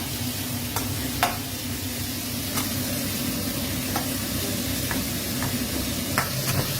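Shallots and pork liver stir-fry in a hot pan, a steady close sizzle throughout with repeated sharp scrapes and clacks of a spatula stirring at irregular intervals.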